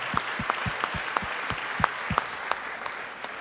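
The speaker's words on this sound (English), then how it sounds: "Give yourselves a round of applause." An audience applauds at a youth sports awards event. Steady, evenly spaced claps repeat at a quick rhythm over a dense wash of clapping, at moderate distance and with no talk.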